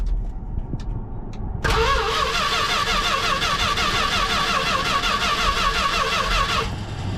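The engine of a 1973 Dodge W200 truck cranks on its starter after a few faint clicks, a loud, steady whirring drone lasting about five seconds without catching, then cutting off.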